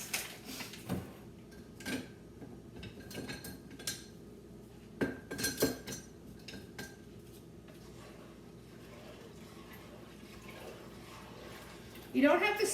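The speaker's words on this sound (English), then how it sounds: "you have to stir it in the beginning to at least get everything moved around" A utensil stirs vinegar, sugar and Mrs. Wages pickle mix in a pot, giving scattered clinks and scrapes against the container, moderately close, with quiet pauses between strokes.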